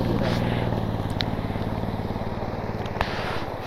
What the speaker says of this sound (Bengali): যাক, বাইক দুটো পার হয়ে গেছে